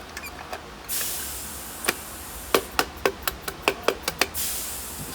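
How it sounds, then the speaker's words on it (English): A dead blow hammer strikes a 2012 GMC Terrain during a front brake pad and rotor job: a few scattered knocks, then a quick, evenly spaced run of about eight sharp, solid blows close by. "Take your dead blow hammer."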